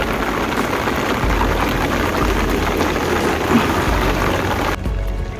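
Steady rain falls at a construction site, a dense even hiss of drops on surfaces that continues throughout before dropping off sharply near the end.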